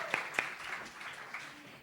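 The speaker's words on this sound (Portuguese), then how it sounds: "vamos aplaudir todos" A small audience at an academic event applauding a panel, scattered faint clapping with a couple of sharper claps at the start, light and thin.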